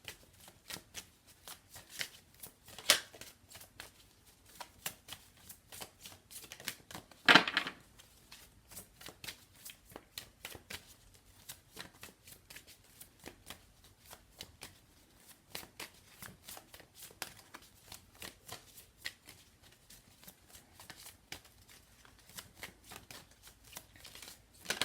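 Tarot cards being shuffled over and over in quick, papery flicks and riffles, a long run of soft rapid clicks with a couple of sharper snaps, close and fairly quiet, with no voices.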